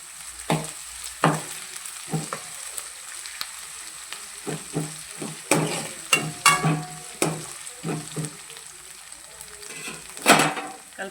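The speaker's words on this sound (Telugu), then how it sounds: "అల్లం వెల్లుల్లి పేస్ట్ 1 టీ స్పూన్ వేసుకొని కలుపుకోవాలి బాగా" Ginger garlic paste stirred into potatoes frying in a pan, heard as a soft sizzle broken by repeated spoon scrapes and clanks against the pan at an uneven rhythm, close and fairly loud.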